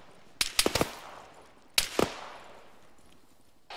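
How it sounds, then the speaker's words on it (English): Gunfire in the military video game Arma comes in two quick bursts: four or five sharp cracks, then a pause and three more, each followed by a ringing, echoing tail at a moderate distance. "I'm taking shots from behind."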